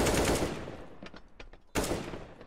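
Rapid automatic rifle fire bursts loudly in a Counter-Strike: Global Offensive match at a tournament final, one long burst, scattered single shots, then another heavy burst, with no talk over it.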